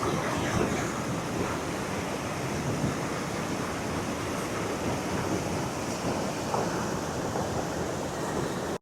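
A waterfall in the Norwegian fjords at Flørli roars with a steady, dense rush of water, loud and unbroken throughout, with some wind buffeting the microphone.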